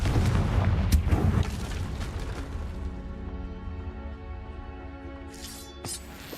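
A Confringo blasting spell explodes in Hogwarts Legacy: a loud booming burst at the start that decays into a long ringing tail of magical shimmer, then a brief sparkling flourish near the end.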